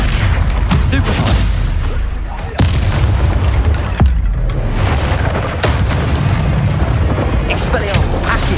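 A Stupefy spell cast and its impact in the Hogwarts Legacy video game come through as heavy booms and sharp crack-like hits within dense combat noise, with voices shouting during the fight.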